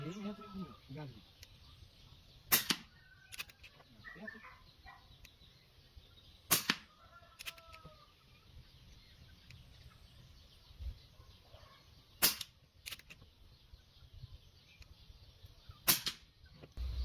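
Sharp, isolated cracks of Urko Sport air rifle shots hitting cans ring out a few seconds apart, with light metallic knocks and quiet background sounds between them.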